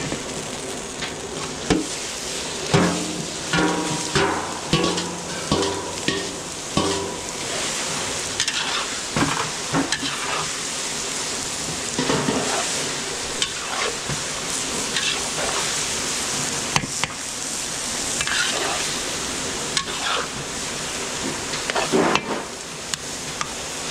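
Garlic and onion sauté in a large pan for a big batch of picadillo, giving a steady, dense sizzle with scraping stirs and clatter throughout, with no talking.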